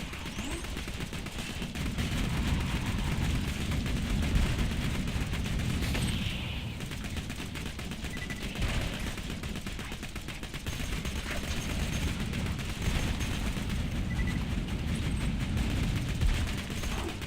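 Sustained video-game gunfire in Borderlands 2, a dense, continuous rattle of rapid shots and mechanical clatter at moderate loudness, with occasional voices under the fire.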